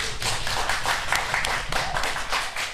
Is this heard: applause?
yes